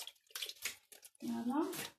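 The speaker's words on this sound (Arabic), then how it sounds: "هاني نغسل في يديا ونرجع لكم" Hands are washed under a running tap, with short splashes followed by a louder, steady gush of water close by and a voice briefly in the background.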